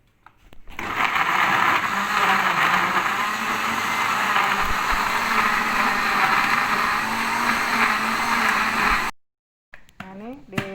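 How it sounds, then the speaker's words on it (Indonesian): Kitchen blender grinding kimchi ingredients to a smooth paste, a loud continuous motor whir holding steady for about eight seconds before cutting off, followed by brief quiet and a little handling noise. "Baru kita blender sampai halus semuanya ya, semua ditutup, baru dihaluskan."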